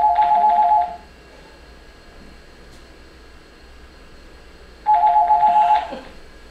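Telephone on the night line ringing twice, each burst about a second long with a steady electronic warble, separated by a roughly four-second gap of quiet room noise.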